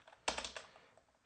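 Close, soft clicks of computer keyboard keys in a quick cluster, then a quiet pause and one more tap at the end, as commands are typed.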